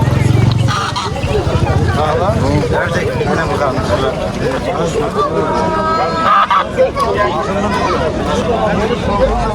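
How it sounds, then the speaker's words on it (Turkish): Chickens clucking and squawking among a noisy flock at a flea market in Kayseri, Turkey, with people chattering loudly nearby over the busy, continuous din. "Bu tavuk."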